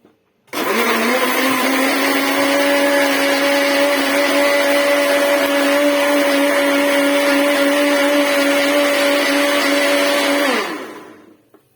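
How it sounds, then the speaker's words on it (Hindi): A mixer grinder blends squeezed lemon juice for a mint strawberry soda, starting abruptly with a loud, steady whirring drone that holds for about ten seconds, then winds down and stops. "अब इसको जो है हम मिक्सचर में ग्राइंड कर लेंगे।"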